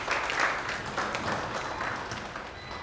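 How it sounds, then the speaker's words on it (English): Audience applause at a menstrual health campaign launch, a steady wash of many hands clapping that fills the clip at moderate loudness before easing slightly. "With a round of applause, please."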